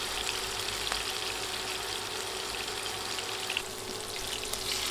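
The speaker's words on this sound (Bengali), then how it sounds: "মাছ দিয়ে এক পাশ 2-3 মিনিট ভেজে নিয়েছি। এখন উল্টে দিয়ে অন্য পাশও ভেজে নিব।" Fish pieces fry in hot oil in a pan, a steady dense sizzle and crackle that carries on evenly throughout, close up with no talking.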